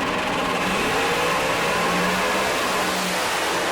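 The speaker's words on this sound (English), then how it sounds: "Last two cars in Radial vs. the World here at the Comp Cam Shakedown Nationals 17 at Virginia Motorsports Park" Radial vs. the World drag race cars accelerating down the strip at Virginia Motorsports Park, a loud, continuous engine roar filling the whole moment without pause.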